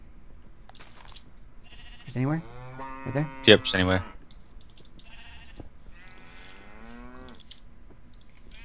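Cows mooing in the Minecraft MagiTech modpack: several drawn-out, nasal moos close by, clustered in the middle, while people speak briefly before and after.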